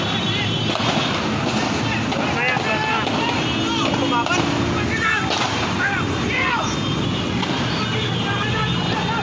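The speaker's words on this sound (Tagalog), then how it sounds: "Grabing putukan dito." Bursts of gunfire pop and crack repeatedly in a shootout between drug enforcement agents and police, amid wind and engine noise, with voices talking over it.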